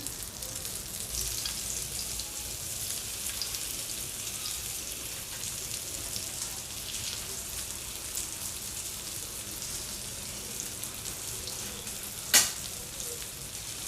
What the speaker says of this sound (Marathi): अशाच प्रकारे मी ही सर्व फिश फ्राय करून घेते